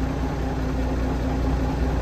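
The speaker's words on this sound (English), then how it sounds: "I like to keep this engine running for a little bit" A steady, low tractor engine idling nearby, a continuous rumbling hum with no change in pace.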